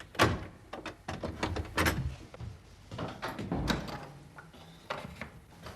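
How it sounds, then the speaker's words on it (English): A house's front door is handled and locked with keys, giving a series of close knocks, rattles and clunks at an irregular pace, with no voices heard. "we lock the front door of the house, and then when coming inside, we lock the inner doors"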